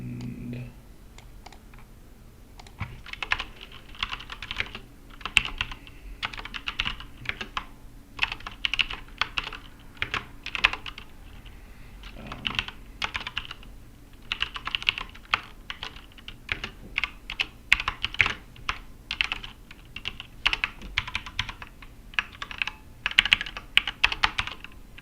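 Someone types on a computer keyboard while writing code, with irregular bursts of crisp key clicks and brief pauses, close and fairly quiet, with no speech.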